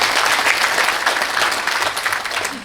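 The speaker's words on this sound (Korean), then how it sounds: "박수 한번 부탁드릴까요?" A crowd at a book launch event breaks into loud, dense clapping that stays full and steady for a few seconds before easing slightly, with no voices rising above it.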